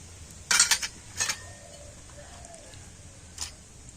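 Steel bowls being brushed with white oil give a few bright metallic clinks and scrapes, two clustered early and one isolated later, against a quiet kitchen background.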